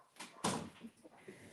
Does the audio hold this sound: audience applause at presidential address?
no